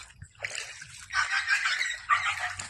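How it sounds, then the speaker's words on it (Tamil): Water runs and splashes over ground beside a newly bought house, a continuous near sloshing flow that swells in two surges, with a faint low rumble underneath. "பாருங்க தண்ணி எப்படி ஓடுது பாருங்க"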